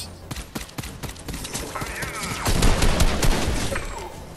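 Rapid bursts of gunfire in Fortnite crack out in quick succession, with a denser, louder volley in the middle, over game ambience and brief talk.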